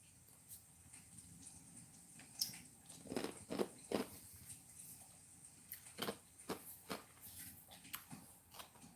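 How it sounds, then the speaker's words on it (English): Ice being chewed close to the mic, with irregular crunchy bites in bursts and short pauses between them. "you hear me chew on ice"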